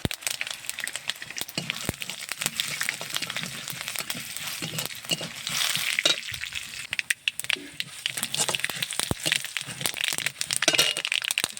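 Black mustard seeds, a bay leaf and whole cumin frying in hot oil for a sour teasel gourd dish give a steady, close sizzle studded with sharp pops and crackles throughout, with no talking.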